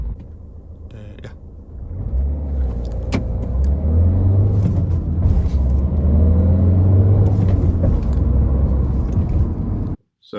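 A car driving along after a wedding, with a steady engine rumble and road noise that swells after a quieter start and holds loud and continuous, then cuts off abruptly near the end.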